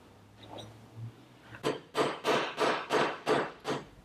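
A hammer tapping on stuck threads of a Mercury 110 9.8 HP outboard motor: six steady, evenly spaced metallic knocks, close and fairly loud, following a faint quieter stretch.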